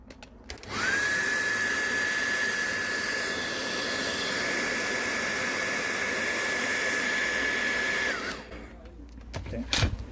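A heat gun warms the screen of a Samsung A01 phone, blowing with a steady airy roar and a thin constant whine for about seven seconds before it cuts off abruptly, leaving quieter handling noises.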